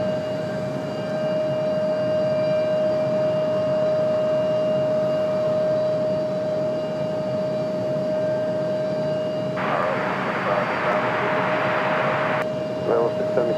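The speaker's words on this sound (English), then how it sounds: "Delta 2600 coming in from Atlanta, Georgia. It's going to be an A321-200." A Delta Airbus A321-200 on approach to Raleigh-Durham airport from Atlanta gives a steady, loud jet roar with a thin whining tone, swelling into a brief harsher surge near the end.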